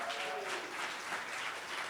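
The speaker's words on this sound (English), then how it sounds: "Clap it up for that." A room full of people at a social justice summit opening reception in Milwaukee applauds, a dense, even wash of clapping that holds steady throughout the short stretch.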